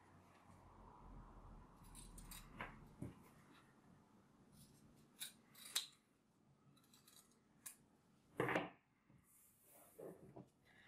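Scissors snipping excess fabric after sewing a purse zipper channel: faint, quiet clicks and short cuts scattered over eleven seconds, with one louder snip near the end, in a still room.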